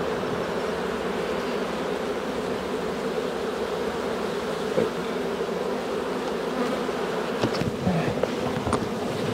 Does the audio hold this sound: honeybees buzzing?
yes